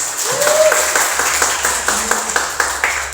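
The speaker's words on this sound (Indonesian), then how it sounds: "Tepuk tangan untuk kita." Audience at a school leadership transformation seminar claps for roughly three seconds, a sparse, room-filling patter of hands with a brief tonal whine early on and faint background murmur.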